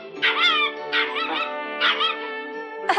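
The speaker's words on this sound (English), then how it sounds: "Here you are, you naughty little dog." A small dog whimpers and yips in three close, high-pitched whining bursts, loud and near, with brief pauses between them.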